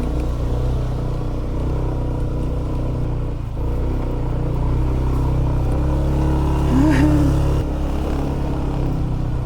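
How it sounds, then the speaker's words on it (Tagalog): A motorcycle engine drones steadily while riding a mountain road in Sagada, Cordillera region, with a brief rise in revs near the end and some road rumble underneath. "Malakas po ang motor namin."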